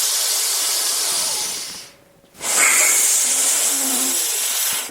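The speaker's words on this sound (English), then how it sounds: "start breathing long, deep, and the hissing, both from the belly and the chest through the left nostril" A long, deep hissing breath drawn through the left nostril, loud and close, fills most of the moment, broken by a brief quiet pause before another strong, airy hiss continues.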